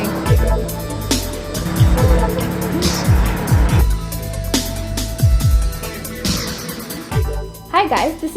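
BMW M4 sports car driving, its engine revving in repeated surges with sharp acceleration bursts and tire noise, loud and close throughout, with voices faintly mixed in.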